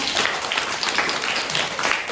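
Children in a classroom clap together in a steady burst of applause, fairly close and continuous throughout with no talking over it.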